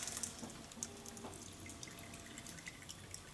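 Liquid drips and trickles from wet brewing grains draining out during a maple imperial blonde ale brew; faint, scattered drops at an uneven pace, close and quiet.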